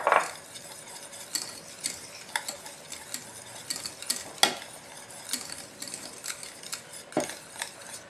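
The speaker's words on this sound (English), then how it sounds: "I'm going to add the vanilla and the rum. Mix it in well." A spoon stirs vanilla and rum into freshly cooked pastry cream in a pot, giving irregular close scrapes and light clinks against the metal with short pauses between strokes and no talking.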